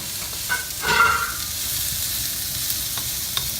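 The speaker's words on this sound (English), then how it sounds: "add in 1 onion that I have already cut up, diced, whatever you want to say. We're going to let this cook about a minute" Diced onion sizzling in an oiled pan, a loud steady frying hiss with a brief burst of crackle near the start and a few pops, no voices.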